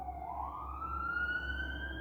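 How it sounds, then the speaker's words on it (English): A siren wails with a rising tone, fairly faint and distant, over a low rumbling traffic hum as an emergency vehicle passes. "Welcoming in the sounds of the sirens that are going past my"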